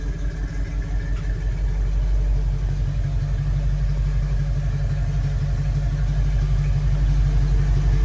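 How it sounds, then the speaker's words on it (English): A 1969 Ford Bronco Sport idles through its dual exhaust with a loud, steady, deep burble and an even pulsing rhythm throughout, close by with no talking. "Nice tone from the dual exhaust."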